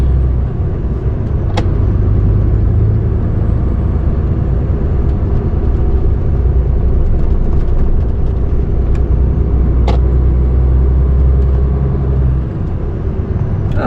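A car cruises along a road in traffic, a loud, steady engine and tyre rumble heard from inside the cabin, with a few faint clicks and taps over the constant drone.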